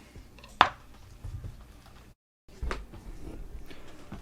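A knife trims and cuts beef round on a board, with a sharp close chop followed by softer slicing and scraping thuds, quiet and without talk.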